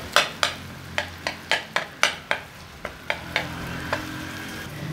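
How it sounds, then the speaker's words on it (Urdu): Mutton brain frying in a pan over a low flame, with a steady soft sizzle under a series of crisp, evenly spaced taps and scrapes from a spoon cutting and stirring it. "آہستہ آہستہ آگ کے اوپر اس کو فرائی کرنا ہے، یہ بنے گا مٹن مغز فرائی۔"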